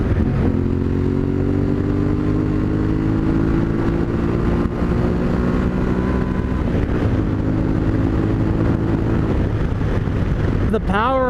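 A 2021 Yamaha Tenere 700 is ridden along a scenic road and leaned over through bends. Its engine drones loudly and steadily up close, with strong wind buffeting over it and a brief shift in revs near the end.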